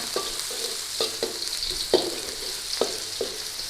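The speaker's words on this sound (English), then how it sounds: "So get our garlic in there. Give it a little bit of a whiz round." Garlic stir-fried in a pan for a beef and banana pepper stir fry: an even sizzle punctuated by a series of crisp spatula scrapes and taps at irregular intervals, close up.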